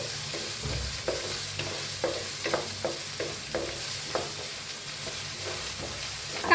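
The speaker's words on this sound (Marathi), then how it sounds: "सगळ्यांना हलवून घेऊया।" Onion, curry leaves and ginger-garlic paste with a pinch of asafoetida stirred in a hot pan for a ridged gourd dish, a steady sizzle under repeated scraping strokes of the spoon, close and alone.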